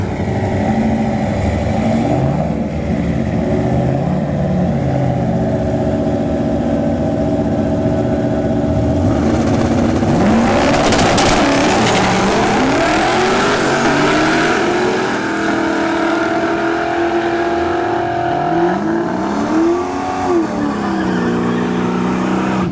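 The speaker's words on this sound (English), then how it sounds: "we got the V8 single turbo RX-7, the FD, versus Dave Farragut, and Nemesis 2, the Nova" A V8 single-turbo Mazda RX-7 FD drag races a Nova at a drag strip: loud engines rev and roar through rising gear changes, passing close in a sustained roaring blast before fading to a lower rumble.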